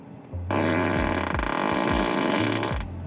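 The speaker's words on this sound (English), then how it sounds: "There's the fart noise maker" A Tesla Model 3 touchscreen plays a fart sound effect: a long, loud, buzzing flatulent blast of about two and a half seconds, with rubbery pitch dips through it, heard alone inside the car.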